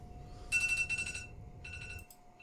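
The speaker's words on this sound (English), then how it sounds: "My alarm on my freaking phone is going off." A phone alarm goes off in bursts of bright, repeating electronic beeps, two quick clusters and then another after a short gap, fairly faint over a quiet background hum.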